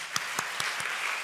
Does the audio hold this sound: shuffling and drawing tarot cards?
no